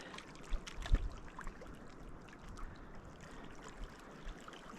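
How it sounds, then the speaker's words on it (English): Water of a stream flowing at a lake among karst springs in Kananaskis, a soft steady trickle and wash with a few faint splashes, quiet and continuous with no voices. "The sound of the water."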